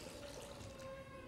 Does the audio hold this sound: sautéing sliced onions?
no